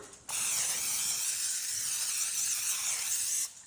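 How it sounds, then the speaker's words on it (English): A single steady hiss of cooking spray onto a muffin tin lasting about three seconds, close and loud, starting and stopping abruptly. "we're gonna give this a quick spray with some Pam"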